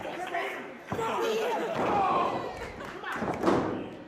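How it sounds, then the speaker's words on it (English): A wrestler's body slams onto the ring mat during a Beyond Wrestling match after a Vader bomb. Two heavy thuds land a few seconds apart under excited commentary and crowd noise. "And with that Vader bomb, still not enough"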